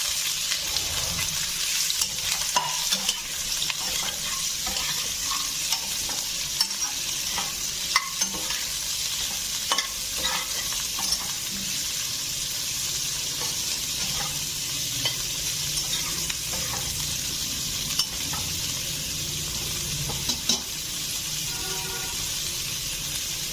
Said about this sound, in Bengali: ফুলকপিগুলোকে দিয়ে দেবো।